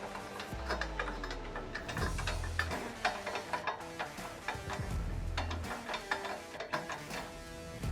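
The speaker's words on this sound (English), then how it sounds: "just taking my socket and spinning it until I get it good and started" A socket is spun by hand to run a nut onto bolt threads while a SuperATV rear bumper is fitted to a Polaris RZR XP 1000, making close, rapid ratcheting clicks with low rumbles throughout and no talking.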